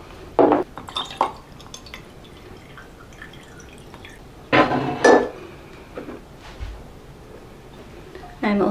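Fresh water added to glass propagation vessels for fiddle leaf fig cuttings, several separate bursts of pouring and dripping with glassy clinks between quiet pauses, close and fairly loud.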